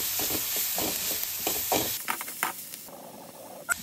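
Masala sandwich spices (coriander powder, chaat masala, amchur) being stirred together, a soft scraping and clinking in short repeated strokes with a steady hiss underneath, close and fairly quiet.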